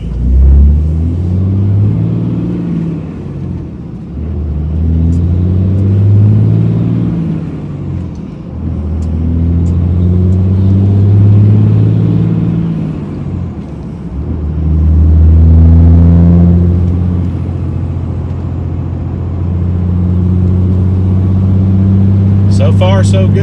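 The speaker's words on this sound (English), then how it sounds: "let's start the truck and go for a ride and see how it shifts" A 2003 Dodge Cummins diesel pickup with an NV5600 manual transmission drives along with a loud, steady engine rumble that rises and falls through repeated gear changes, heard from inside the cab.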